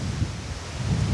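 Thunder rumbles through a rainstorm in a rural setting, a low continuous roll with steady rain hiss and a couple of swelling surges, loud and close and free of voices.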